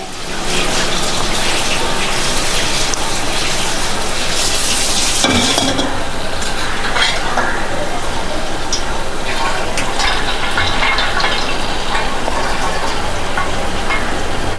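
Oil cooked with parijata flowers is strained to remove the blossoms, making a continuous close trickling and gushing flow with scraping and stirring noises and a brief louder splash partway through.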